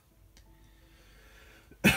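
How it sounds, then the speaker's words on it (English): A person coughs once, sharp and loud up close, in a burst right at the end after a hushed, near-silent stretch. "I still have the cough."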